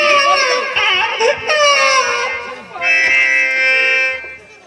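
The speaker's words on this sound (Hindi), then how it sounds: "यह रोना, बच्चा की रोना सुन करके मुझे बर्दाश्त नहीं हो रहा है।" A baby cries in long, wailing, strained bursts that rise and fall, loud and close, over a few seconds with no clear talk.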